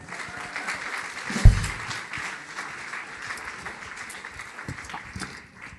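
A church evening gathering claps for a musician, a sparse, moderate patter of hands with a sharp thump early on and faint murmuring underneath.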